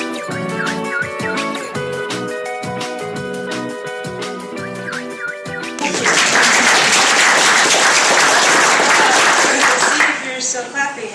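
Audience applause at a talk on innovation for the developing world, bursting in as a loud, dense clapping wash after several seconds of tonal music-like sound and fading near the end.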